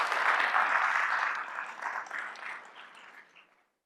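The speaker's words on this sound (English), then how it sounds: "Please give them a round of applause." An audience gives panelists a round of applause at a discussion event on second chance employment; the clapping starts fairly full, then thins and dies away within a few seconds.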